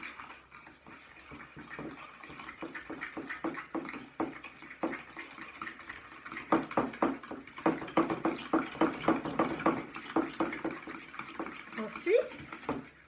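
Sugar being mixed into egg yolks in a bowl for a chocolate cake, heard as a run of rhythmic scraping and tapping strokes that speed up and grow louder, with someone talking over them.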